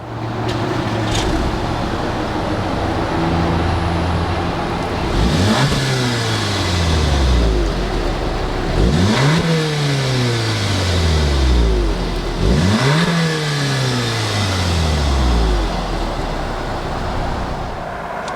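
A 2017 Volkswagen Golf R engine revs repeatedly, rising and falling in pitch in three or four loud bursts over a steady idle, close by with no talking.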